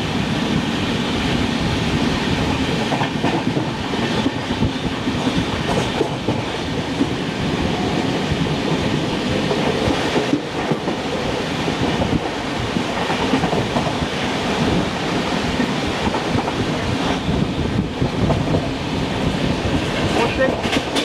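Deccan Queen Express (12124) running from Pune to Mumbai, a steady loud roar of rolling wagons with rhythmic clickety-clack of wheels on the rails throughout, continuous with no pauses.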